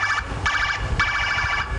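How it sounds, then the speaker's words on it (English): Siren announcing the arrival of the President of Trinidad and Tobago on a Tobago visit, a loud warbling wail pulsing in repeated bursts about every half second over a low engine rumble. "The siren signaling the President of the Republic of Trinidad and Tobago, Anthony Carmona, is on his way."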